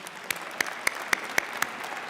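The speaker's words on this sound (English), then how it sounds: "I think we should give your families and your support networks a round of applause as well." At a university convocation ceremony for the Faculty of Arts and The Creative School, a crowd applauds, with a soft wash of clapping punctuated by sharp, evenly spaced individual claps.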